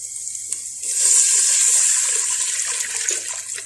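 Water pours steadily into a cooking pot, about three and a half cups measured out for rice, making a continuous close splashing rush for several seconds with no voices.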